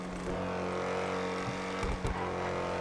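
A game car engine hums at a steady pitch, with a few brief rev bursts and bumps near the end; no talking.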